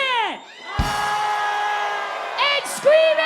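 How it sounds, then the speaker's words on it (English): People at a German American Day virtual Zoom event scream as loud as they can, a sustained loud group yell with whoops and shouts rising and falling over a few seconds. "And scream as loud as you can."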